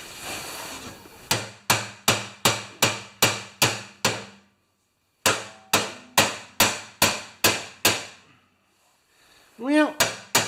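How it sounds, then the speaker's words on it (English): Hammer blows ring out in two quick runs of about eight evenly spaced sharp strikes each, close and loud with short decays, separated by a pause, followed by a brief warbling sound at the end. "So let's just get a hammer now."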